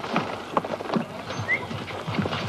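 A team of two horses pulls a load, their hooves clip-clopping in an uneven, steady rhythm at moderate distance, with a faint whinny-like squeak over a light background hum.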